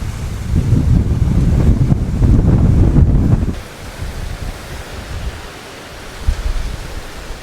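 Strong wind from Storm Benjamin buffets the microphone at a resort in Mallorca, Spain, in heavy, rumbling gusts, then eases to a lighter, steadier rush of wind.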